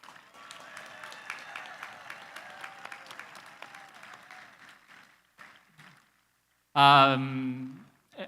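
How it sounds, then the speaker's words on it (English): Applause from a crowd at a school graduation ceremony crackles steadily, then fades and stops; a loud voice follows near the end. "let's do one more round of applause for them, please"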